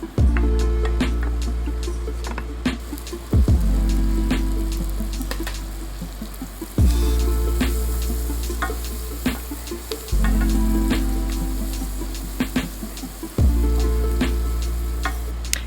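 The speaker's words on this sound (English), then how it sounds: "I'm going to saute my onions for a couple minutes till they're translucent" Onions and garlic sauté in oil and butter for a chicken parm sandwich sauce, giving a steady soft sizzle that runs beneath looping background music throughout.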